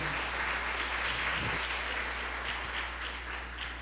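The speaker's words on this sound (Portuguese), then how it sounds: "vamos aplaudir a Ele, porque a Ele toda honra e glória" Church congregation applauding during a worship service, a steady, continuous wash of many hands clapping at moderate loudness, heard alone with a low steady hum beneath.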